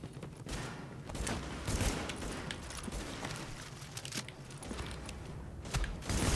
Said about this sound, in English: Am I getting shot from behind?